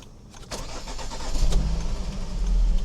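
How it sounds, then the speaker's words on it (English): A Volvo C30 engine cranks and catches, then settles into a steady rumbling idle, loud and close. "I need to try to start it first"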